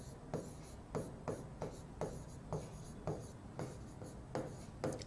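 Chalk writes a line on a classroom board, a series of short scratchy strokes and taps in an irregular rhythm, close and moderately quiet, with no talking.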